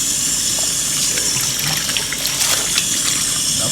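Water running and splashing steadily in a sink as a CottonSubs 2.0 garment is hand washed, a continuous close trickle and slosh with no talking.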